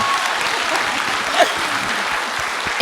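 Applause from a small group runs as a continuous, moderately loud patter of clapping with a few sharper claps near the end, no voices speaking over it.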